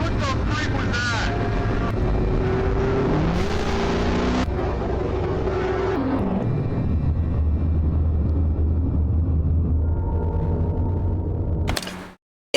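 A car speeds, then crashes in a played video clip: an engine roars and swells in pitch under chatter and noise, shifting down into a lower rumble, ending in a sharp burst before sudden silence.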